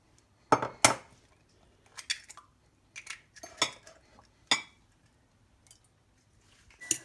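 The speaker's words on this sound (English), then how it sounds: "Beat the egg." A fork or whisk beats eggs in a plate for pork schnitzel, giving irregular sharp clinks and taps against the dish, close and clear over a quiet background without speech.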